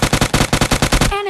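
Rapid automatic gunfire in PUBG Mobile Lite, about ten loud, evenly spaced bursts in just over a second, then an abrupt stop into a ringing, whistling tail.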